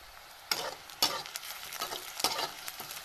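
Onion frying in a pan gives a soft, steady sizzle, punctuated by a few distinct scraping strokes of a spatula at roughly half-second intervals.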